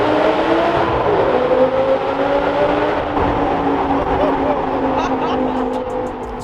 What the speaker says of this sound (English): The sound of that V10 with the roof down is epic.